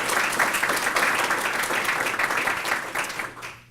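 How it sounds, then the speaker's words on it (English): An audience at a corporate awards event applauds with dense, steady clapping that holds strong for several seconds before tapering off quickly at the end. "let's give them a round of applause"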